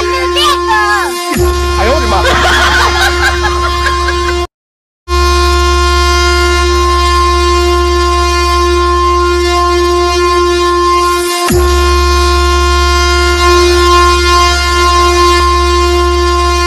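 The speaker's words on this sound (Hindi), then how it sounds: "हॉर्न सुनाई नहीं दे रहा क्या?" A loud, blaring horn honks in long sustained blasts, broken by a brief silence, with some voices briefly audible early on.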